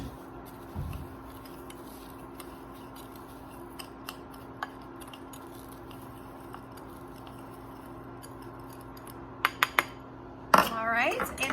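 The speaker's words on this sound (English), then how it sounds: "Stir that together." A spoon stirs panko breadcrumbs into melted butter for mac and cheese, giving sparse faint clinks against the dish and then a short burst of louder scraping near the end.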